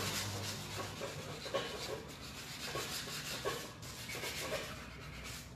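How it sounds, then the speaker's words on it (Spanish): Close, quiet back-and-forth rubbing of sandpaper against acrylic, in short uneven strokes repeating throughout. "Si yo necesito emparejar algo, una lija."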